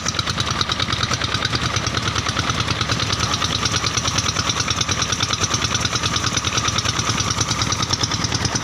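A steady irrigation pump engine on a rice farm runs continuously at idle with a rapid, even chugging throb and mechanical rattle, loud and close, with no voices.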